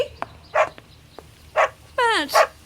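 A dog in a radio drama barks several times, sharp close yips and woofs spaced apart, ending with a rising whining whimper just before a last bark, with a faint low hum beneath.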